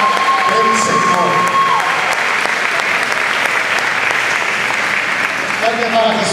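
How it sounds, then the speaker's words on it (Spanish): A church congregation at a youth revival camp gives loud, sustained applause welcoming the international evangelist Roberto Lugo, a dense, even roar of clapping with faint tones and murmurs beneath it. "recibamos con fuerte aplauso al evangelista internacional Roberto Lugo"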